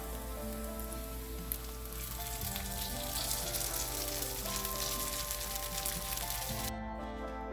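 Fish frying in hot oil in a pan for a spicy dish, a continuous close crackling sizzle with a steady hiss and scattered pops, loud and unbroken until it suddenly dulls near the end.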